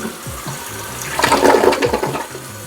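A toilet flushes with a loud rushing gurgle of water draining from the bowl, then the tank refills with a steady trickling flow, close and clear.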